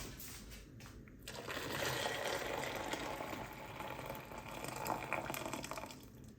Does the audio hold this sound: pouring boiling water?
yes